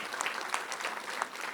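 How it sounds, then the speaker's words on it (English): Audience applause at a livestock steer auction held during a board meeting, a short burst of steady clapping from the room, moderately distant and fairly soft. "So let's give her a big round of applause."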